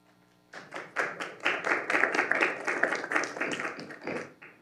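A room of people in the city council chambers claps together for about four seconds, a steady burst of applause that swells quickly and then tapers off.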